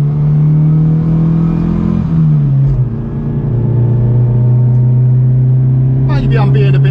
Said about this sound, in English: Just to give it a spirited pull away here and see how we get on. Little bit of wheel spin from those 12-inch wheels.